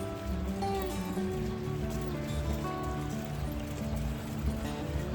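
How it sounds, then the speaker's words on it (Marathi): Steady rain falls at Gangotri Dham in the cold Himalayan mountains, a dense, even patter that continues without a break, with no voices. "आता पाऊस पण चालू झालाय."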